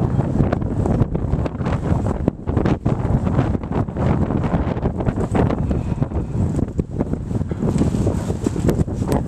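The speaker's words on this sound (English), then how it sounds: "It's pretty windy today." Strong wind gusting outdoors in an alley, buffeting the microphone with loud, continuous rumbling roar and flutter throughout.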